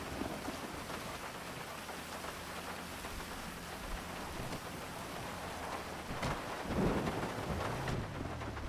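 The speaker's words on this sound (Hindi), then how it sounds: "अबे यार बहुत तेज बारिश हो रही है।" Heavy rain pours down steadily in GTA 5 with a low rumble of thunder beneath it, loud and continuous throughout with no voices.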